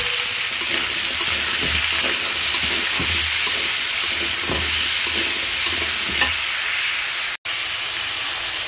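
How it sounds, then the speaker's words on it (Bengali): Chopped onion and green chilli sizzling loudly in hot oil, a dense continuous frying hiss with faint stirring scrapes and a momentary dropout near the end; no talking. "আমার তেল গরম হয়ে গেছে, আমি পেঁয়াজ কাঁচামরিচ করে দিলাম"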